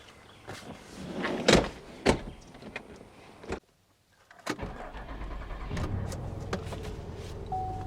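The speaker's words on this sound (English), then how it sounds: "She cranks up good." A Chevrolet Monte Carlo starts up, heard as a few door and mechanical clunks before a short pause, then the engine catches and settles into a steady low idle, close by.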